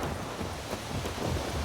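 A thunderstorm rumbles in the video game The Witcher 3, a dense, broad roar like wind and distant rolling thunder that stays steady and loud throughout with no voices.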